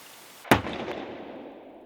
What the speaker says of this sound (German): Ich schieße aus 6 Meter Entfernung, halte die Pistole beidhändig